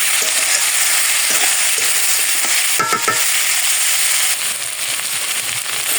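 Spices with salt and turmeric fry in a pan, a steady bright sizzle with brief stirring scrapes and a few sharp crackles partway through.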